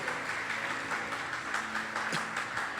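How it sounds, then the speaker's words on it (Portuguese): Applause from a church congregation during a Wednesday evangelical service, a dense, even burst of clapping lasting a few seconds, fairly close, with no clear speech over it. "Vamos aplaudir Jesus em forte"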